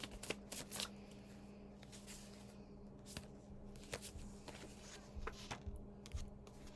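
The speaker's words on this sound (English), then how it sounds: "One more shuffle." A deck of cards, apparently tarot, is shuffled steadily and close by, with continuous papery riffling and scattered sharper card snaps and taps throughout.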